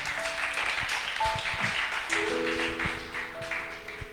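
A church congregation claps for the Lord during a sermon, a sustained wash of applause with scattered taps, as sustained tones from an instrument play beneath.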